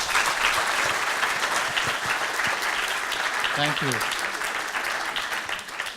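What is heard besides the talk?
audience applause for the people behind the scenes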